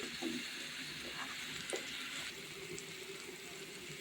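Tomato, turmeric and spices being stirred in a frying pan for a Bengali scrambled egg bhaji, a soft steady sizzle with light scraping and occasional clinks, close and alone.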